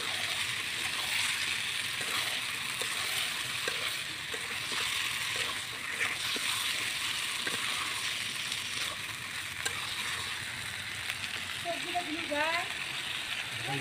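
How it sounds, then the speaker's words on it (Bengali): One kilogram of broiler chicken goes into a pan of cooked-down spice masala and is stirred, giving a steady loud sizzle with soft scraping throughout. "মাংসটা দিয়ে দিচ্ছি। এখন ভালো করে নেড়ে চেড়ে নেব।"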